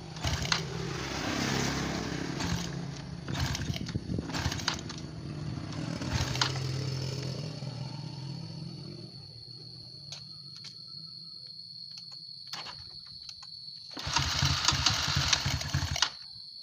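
A Honda Revo Absolute motorcycle engine, fitted with an oil cooler, is started and idles with a steady buzzing hum nearby, then revs up briefly near the end.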